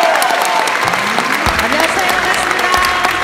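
Loud sustained applause from a crowd at a singing contest stage in Gimhae, South Korea, dense clapping filling the space, with an emcee's voice speaking over it.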